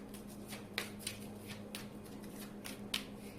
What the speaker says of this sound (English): Going to just mix these up as the wild card pulls.